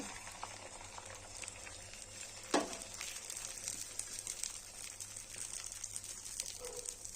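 An egg cooking on a blackened iron griddle gives a steady, soft sizzle and crackle, with one sharp, brief burst early on as it meets the hot surface, then a quieter fry that continues alone.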